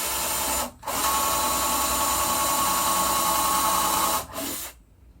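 A power drill runs in two long bursts at close range, drilling pilot holes in a broken furniture drawer, its motor whining steadily with a brief pause between them before it stops.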